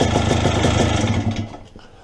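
A stroker-built Yamaha Blaster ATV engine running loud and close, a steady rough two-stroke burble that drops off and fades toward the end.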